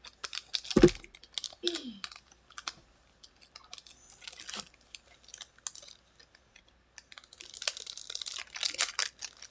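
Scissors snip open a foil Pokémon card pack, giving sparse close clicks and cuts with crinkling of the wrapper that grows busier toward the end; no talking.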